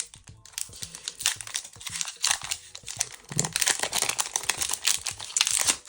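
Plastic wrap crinkles and tears in close, busy bursts as a Charizard Pokémon card box is unsealed, with the crackling growing louder and denser toward the end.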